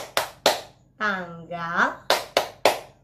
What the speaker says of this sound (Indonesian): Kita tepuk hari ya.